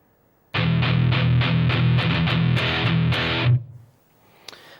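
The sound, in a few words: distorted electric guitar riff, palm muted, played slow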